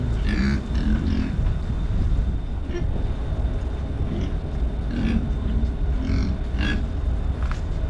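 A fattened, castrated pig grunts repeatedly in short rough bursts over a steady noisy farmyard background.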